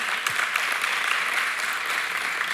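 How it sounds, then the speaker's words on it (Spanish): Congregation applauding during a church sermon, a steady, dense roar of many hands clapping, sustained and fairly loud throughout. "Un aplauso para Él."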